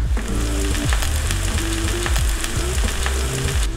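Potatoes frying flesh side down in a hot pan, a dense, continuous sizzle and crackle with occasional scraping stirs, close and loud with no talking.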